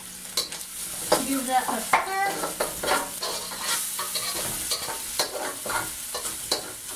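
Ginger, garlic and onions stirred and frying in a hot pan for a keto Chinese shrimp and eggplant dish, a steady sizzle with scraping spoon strokes and clatter, close and fairly loud, with a few brief spoken words.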